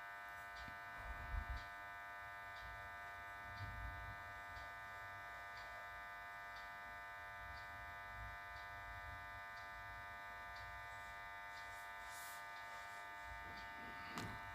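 A sewing machine stitches the neckline of a work blouse, its steady motor buzz and hum running continuously at a low, even level with no talking.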